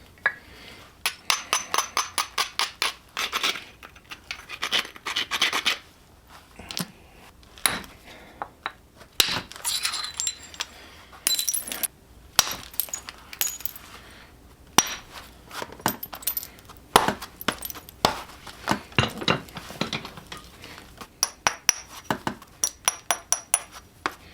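Flakes being knapped off a chert hand axe: sharp, close, glassy clicks and taps in irregular bursts, some struck in quick runs and others spaced out by pauses, with no talking.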